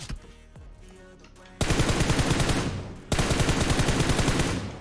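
Bursts of automatic gunfire from the PUBG Mobile video game, two loud, close sustained volleys of rapid shots following quieter scattered game sounds.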